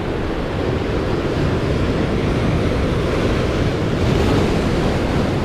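Large sea waves breaking on the shore at a fishing spot, a continuous heavy roar of surf with wind buffeting the microphone, loud and steady, no voices.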